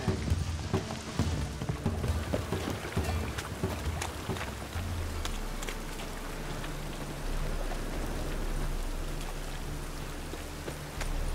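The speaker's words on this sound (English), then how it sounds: "Let it rain." Steady rain patters and hisses in a medieval town setting in The Witcher 3: Wild Hunt, a dense continuous wash with a low rumble and scattered sharper drops throughout.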